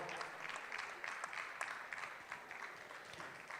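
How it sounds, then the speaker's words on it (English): An audience at a film and TV awards festival claps continuously, a dense even patter of many hands sustained throughout, moderately distant with no voices over it. "we continue clapping until she takes her seat"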